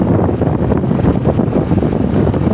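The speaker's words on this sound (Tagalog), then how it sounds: "medyo maano yung hangin medyo maampas yung hangin" Strong wind buffets the microphone in a steady, loud low roar with constant gusty rumble throughout on a hilltop overlooking Candami, Libmanan, no voices.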